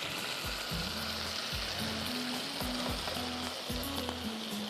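Garlic frying in a pan until lightly browned for a chicken parmesan steak, a steady close hiss of sizzling oil running throughout over a low, rhythmic musical backing.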